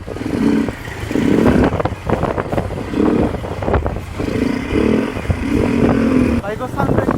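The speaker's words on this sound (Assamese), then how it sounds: "বাইকৰ সাউন্ডটো একদম বিৰাট হৈ আছে ইয়াৰ ফিল্টাৰ খুলি" A motorcycle engine runs with its air filter removed, making a loud, throaty idle with repeated swells and blips, heard close up while someone talks over it.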